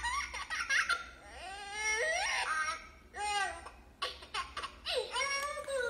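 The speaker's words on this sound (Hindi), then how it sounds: "ये जो हमें बटन्स दिए हुए हैं ये बेबी साउंड है." A toy drum keyboard's buttons playing recorded baby sounds: giggles and short laughing squeals with a whimpery edge, several bursts in a row, faint and slightly tinny through a small speaker, no talk.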